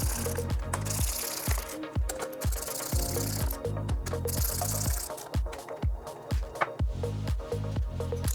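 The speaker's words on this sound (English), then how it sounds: "Now let's go ahead and tighten all these fasteners down." A hand ratchet tightens the fasteners on a motorcycle fender eliminator for a 2021+ Yamaha MT-07. The clicking runs as a fast, steady train close to the microphone, with brief pauses between bursts.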